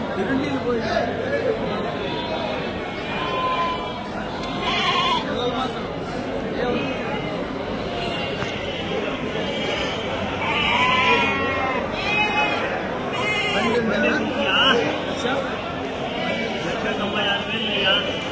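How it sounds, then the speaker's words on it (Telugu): Young rams bleating at a busy weekly sheep market, repeated overlapping bleats near and far over a constant crowd murmur, with people talking throughout. "ఇక్కడేమో పొట్టేలు పిల్లలు ఉన్నాయి."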